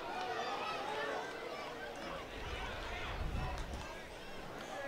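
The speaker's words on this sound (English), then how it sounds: "The crowd's starting to get a little louder here, starting to get a little restless." Baseball stadium crowd at Campanelli Stadium during a Team USA vs. Team Japan game, a steady distant murmur of chatter and hubbub that swells slightly louder near the end.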